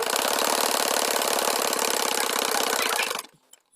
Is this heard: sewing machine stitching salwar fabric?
yes